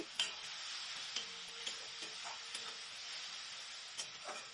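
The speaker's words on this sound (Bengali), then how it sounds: "একটু সামান্য জল দিলাম, একটু আমি কষিয়ে নিচ্ছি" Spice masala of cumin and coriander powder frying with a splash of water for a chicken curry, a steady close sizzle and hiss with occasional light spoon taps against the pan; no voices.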